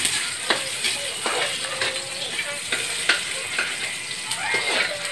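Garlic and onion sauté in a pan for tinola, a steady close sizzle broken by regular scraping stirs of a spatula.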